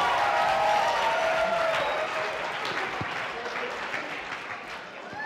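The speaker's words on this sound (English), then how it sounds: "Round of applause, please" An audience applauds at a faculty dance performance event, dense and sustained clapping from a large crowd that gradually thins and fades over several seconds.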